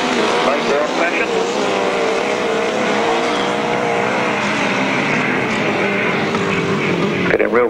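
Single-cylinder grasstrack racing motorcycle engines at a 1995 grasstrack meeting, using a Groton engine on a slippery circuit, roar continuously and loudly with shifting pitch as the machines race, while a commentator speaks over them throughout.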